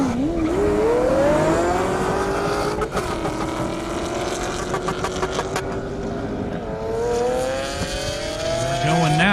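A Lamborghini Aventador and a Mustang launch side by side in an airport drag race, engines roaring loud and close with rising pitch as they accelerate hard, under a commentator's continuous voice.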